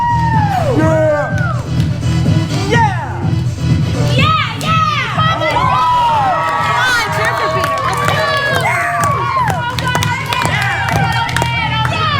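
A theater audience at a live Peter/Wendy stage performance cheers and shouts for the pirate captain, with many excited children's voices whooping loudly and continuously over a steady low rumble.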